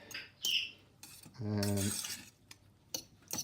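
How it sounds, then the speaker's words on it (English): Spoon stirring seasoning into rice in a pan, a few quick scrapes and clinks at close range with short pauses between them, with a brief tonal squeak in the middle. "a good generous shaking through it, and just quickly stir that in"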